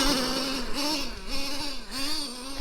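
Traxxas T-Maxx 3.3 nitro RC monster truck engine buzzing steadily at high revs, its whiny pitch rising and falling in waves as the throttle is worked, loud and close with no talking.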